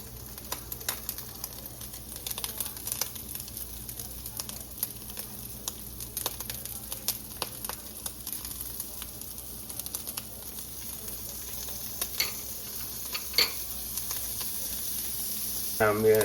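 Butter and sausage sizzle in a frying pan on a stovetop, a steady, close crackling hiss that runs throughout with occasional sharper pops and spatters.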